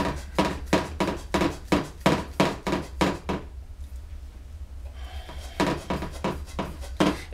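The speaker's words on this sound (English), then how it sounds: "these little cutters actually do a cleaner cut than the angle grinder. It's already going through pretty good." A small pipe cutter turning around copper pipe, making a steady run of rhythmic scraping rasps close up, pausing briefly midway before the strokes resume.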